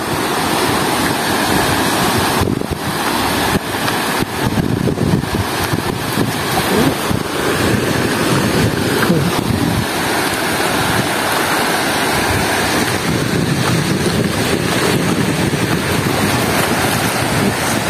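Continuous roar of ocean surf washing onto a white-sand beach in Tuban, with gusty wind buffeting the microphone throughout and no voices.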